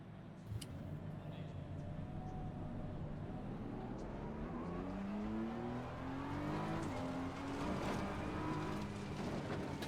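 BMW M4 GT3 race car on a warm-up lap in the ACC racing game, its engine droning steadily with rising and shifting tones as it accelerates through the gears, under occasional talk.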